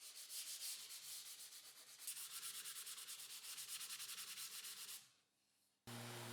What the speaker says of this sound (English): I use a block of wood and sandpaper to avoid sanding off too much of the applied product from the edges